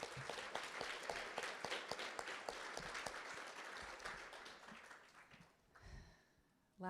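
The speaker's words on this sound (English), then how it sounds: "Let's give another round of applause" An audience at an awards ceremony gives a round of applause with distinct, crisp claps. The clapping fades out over several seconds, and a voice begins at the end.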